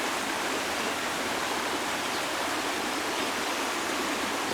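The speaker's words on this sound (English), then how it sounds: "A creek running alongside the trail." Creek water rushes steadily beside a park trail at Natural Bridge, Virginia, a continuous broadband flowing roar that holds even and close for several seconds with no voices.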